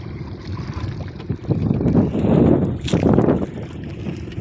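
A boat engine thumps with a low, steady rumble, swelling louder midway, while wind buffets the microphone.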